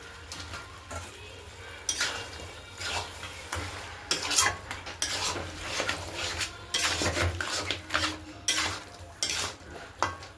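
Mutton marinated in sour curd is stirred and fried in a pan, with bursts of spatula scraping and metal clinks over a low, continuous sizzle, close and fairly quiet.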